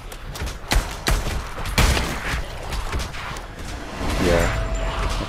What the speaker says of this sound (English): Need to reload this gun quick.